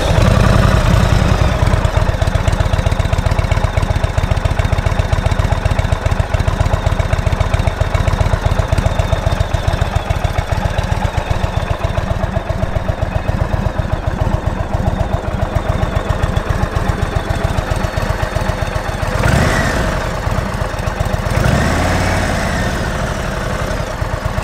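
An Indian Roadmaster 2020 motorcycle engine fires up and settles into a steady, loud, throbbing idle close by, running continuously with a brief change in tone near the end.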